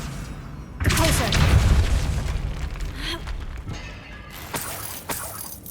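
Depulso repelling spell impact in Hogwarts Legacy: a sudden heavy boom that hits loud and rumbles off, followed by scattered smaller crashes and a couple of further sharp impacts near the end.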